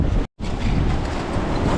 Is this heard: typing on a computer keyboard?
no